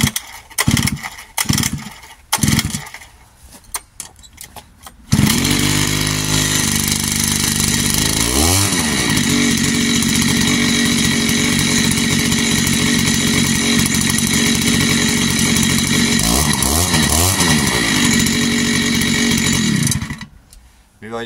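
Heavy Japanese-made brush cutter with a backpack-hung engine and drop tank, revving hard under throttle in one loud sustained roar of about fifteen seconds, with wavering pitch, framed by short bursts before and after.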